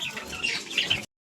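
Pigeons are released to fly, giving a close, brief burst of fluttering and chirping that lasts about a second before cutting to silence.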